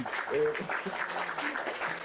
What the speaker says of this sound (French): Bravo, ça s'applaudit.